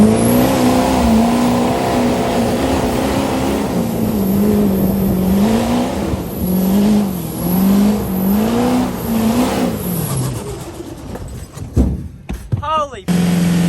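A truck with a badly damaged exhaust revs hard, its rough engine note rising and falling in loud repeated surges, with people talking over it before it cuts out into scattered clatter.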